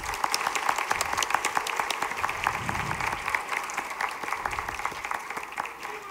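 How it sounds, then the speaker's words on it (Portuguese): A crowd at a school golden jubilee ceremony gives sustained applause, many hands clapping in a thick continuous patter, moderately loud and steady from start to finish, with no voices on top. "uma salva de palmas para vocês."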